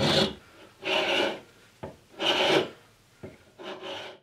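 A hand rasp scrapes a small roundover into a wooden lamp part in four or five slow, loud strokes, each with a short tap or pause between, heard up close and alone.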